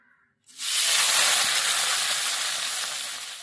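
Boiled potatoes dropped into hot white oil and ghee for aloo morich, a sudden loud sizzle bursting up after a brief quiet moment and hissing steadily close by.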